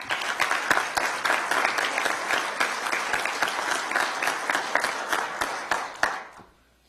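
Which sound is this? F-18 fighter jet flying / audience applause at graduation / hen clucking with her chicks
audience applause at graduation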